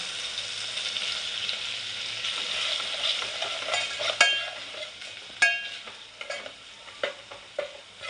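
Malvani masala fries in a pan for a black pea amti, a steady soft sizzle under sharp intermittent scrapes and clinks as a spoon stirs it against the pan.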